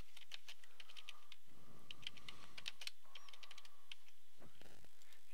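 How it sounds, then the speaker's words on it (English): Rapid clicks of typing on a computer keyboard while entering text for a discussion board post, several quick bursts with short pauses, close and clear with no talking. "Type in your information."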